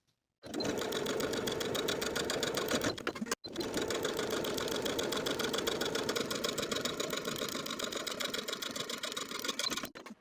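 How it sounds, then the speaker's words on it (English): A sewing machine runs along bodice side and shoulder seams of a vintage dress in two long, steady bursts of rapid stitching, separated by a brief pause and ending with a clean stop. "Then we can sew our pressed side seam and shoulder seam with a 3/8 inch or 1 centimeter seam allowance."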